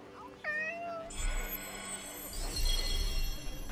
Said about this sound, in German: Ich will die Katze streicheln.